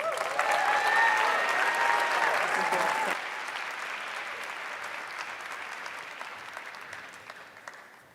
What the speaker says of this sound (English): Please join us in giving a warm round of applause to New Mexico's own Lieutenant Governor Howi